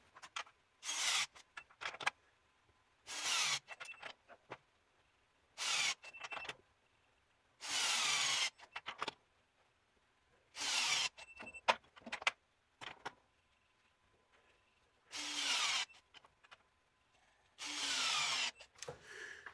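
An Amazon impact driver torques bolts in a series of eight loud, rattling hammering bursts, each lasting about a second, separated by short quiet pauses and faint clicks of handling.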